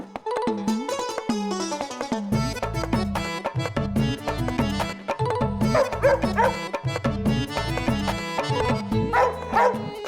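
A dog named Jimmy barks, yips and whimpers in repeated short bursts over a dense musical backdrop in a fantasy television drama, fairly loud and continuous with no talking.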